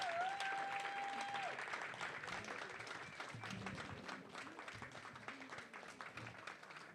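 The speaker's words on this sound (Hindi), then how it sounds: "ताली तो बजा ही सकते हैं जोर से थोड़ा।" Audience applause at a theatre festival award ceremony, a continuous, even roll of many people clapping at moderate distance, lasting throughout with a faint voice near the start.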